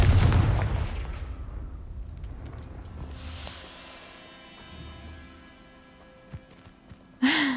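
A Confringo fire spell blasts off in Hogwarts Legacy with a loud booming burst at the start that rings out and fades, followed by quieter game sounds and another sharp impact at the end.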